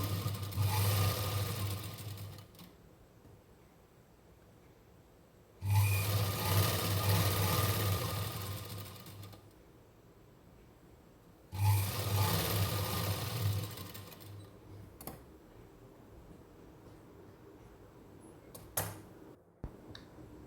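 A sewing machine runs an overlock-style seam on fabric, in three loud, close bursts of rapid mechanical stitching, each lasting a few seconds and separated by pauses with faint handling clicks.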